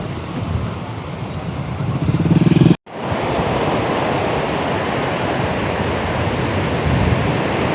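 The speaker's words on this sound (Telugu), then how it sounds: "సముద్రం అయితే చాలా ముందుకు వచ్చింది." Sea surf at Chirala Odarevu beach, a steady loud roar of breaking waves that swells briefly, cuts out for an instant, then returns as a dense continuous wash.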